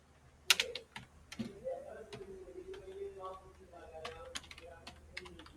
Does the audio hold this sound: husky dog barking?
no